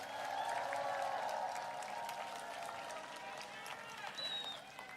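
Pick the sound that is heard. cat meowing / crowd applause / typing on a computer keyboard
crowd applause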